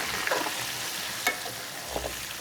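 Beef chunchuni frying in oil and being stirred, a faint steady sizzle with a few sparse spatula scrapes and clinks, quiet and close, no speech.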